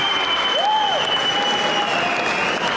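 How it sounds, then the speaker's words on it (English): Loud, dense applause from a crowd cheering both boxers after a fight at the Sunderland Live Arena, sustained and unbroken throughout. "a massive round of applause to both fighters"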